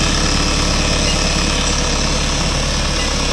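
A Dongfeng 404G2 four-wheel-drive tractor's four-cylinder engine idles steadily and close by, a dense, continuous rumble with a faint rattling vibration and no breaks.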